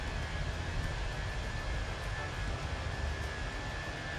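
Airliner engines in a flight simulator hold a steady, broad roar during the climb after a night takeoff from Athens, with a faint constant tone running through it and no talking.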